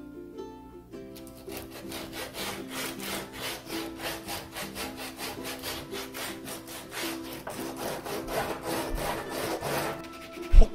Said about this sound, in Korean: 폭풍 사포질.